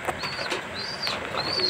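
Pigeons in a coop feeding their squabs give soft, repeated calls in three short rising and falling phrases, close by over low background noise.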